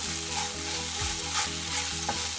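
Sabudana khichdi fries in a pan while being stirred, with a constant close sizzle and soft scraping strokes of the spoon against the pan, with no voices.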